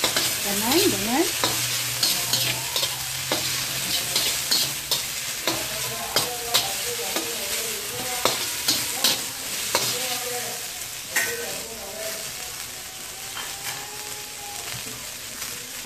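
Vegetables stir-fry in hot oil in a wok, with a steady close sizzle broken by repeated scraping and clanking from a spatula against the pan.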